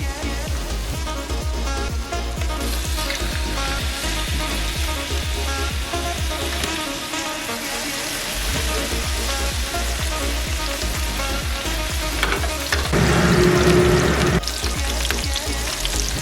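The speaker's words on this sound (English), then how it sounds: "Add coconut oil into a heated pan. We are gonna shallow fry the fish." Fish shallow frying in coconut oil in a heated pan, a loud, steady sizzle and crackle that holds throughout, swelling briefly near the end.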